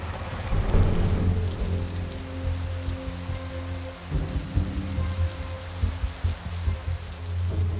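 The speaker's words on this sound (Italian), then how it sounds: "stamattina pioveva anche leggero, ma adesso viene giù a secchiate." Heavy rain pours down steadily on an Alpine road, a dense close hiss with low rumbling underneath, loud and continuous without voices.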